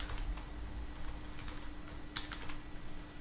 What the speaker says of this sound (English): just going to type in my password.